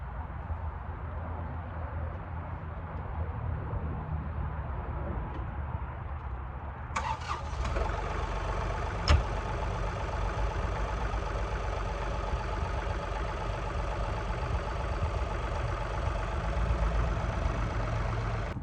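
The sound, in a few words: tractor engine idling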